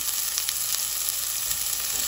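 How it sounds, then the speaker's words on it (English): Chopped onions hit hot oil in a pot of spaghetti sauce, setting off a loud, dense, continuous sizzle with faint crackles throughout and no talking. "So now we'll drop in our onions from the cutting board."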